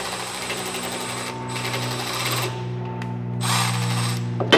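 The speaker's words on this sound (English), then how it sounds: "Got myself a 10mm socket on a battery ratchet, and it doesn't take much to loosen it up." A battery ratchet with a 10mm socket loosening the oil drain on an Exmark Staris stand-on mower, a close whirring motor buzz in several short bursts with brief pauses between them.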